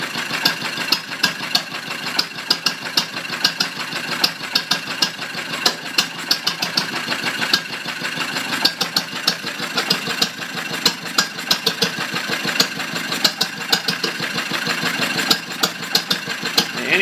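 An old engine idling as it warms up, a steady mid-pitched running sound with faint regular knocking ticks throughout, fairly quiet and without talk.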